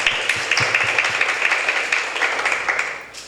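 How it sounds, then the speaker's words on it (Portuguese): An audience at a course for expectant parents claps for a presenter, a modest, fairly thin patter of hands, steady and then fading at the end. "Palmas para Carol"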